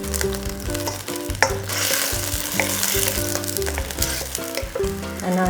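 Thai green curry sauce with tofu sizzles and bubbles in a pan as basil goes in, a steady moderate frying crackle with occasional stirring clatter, no voices.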